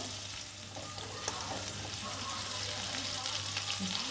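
Cream bubbles as it cooks down into ghee in a very hot kadai, giving a quiet, steady sizzle and crackle with occasional soft stirring, and a low hum beneath.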